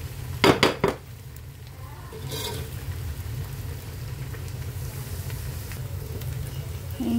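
A spoon clatters sharply against a pan a few times as a bitter gourd and lentil fry with coriander leaves is stirred, then a low hum of the stove and faint sizzling carries on quietly.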